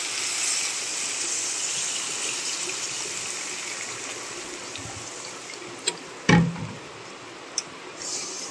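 Water pours into a cooking pan in a home kitchen as a steady hissing gush, followed by a few sharp clinks and knocks near the end.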